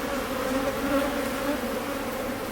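A close, continuous drone of many honeybees swarming over an open beehive during an inspection, steady and fairly loud with nothing else heard.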